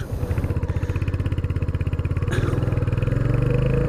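A Royal Enfield Hunter 350 single-cylinder motorcycle runs close by with a steady thumping idle pulse, then its engine note rises as it revs and pulls away.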